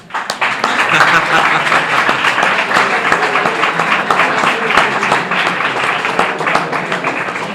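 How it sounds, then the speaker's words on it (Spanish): Audience in a school hall applauding a student at a history lecture: dense, steady clapping from many hands that holds loud throughout, with some voices mixed in. "Un aplauso para el compañero."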